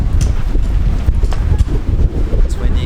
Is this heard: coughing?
no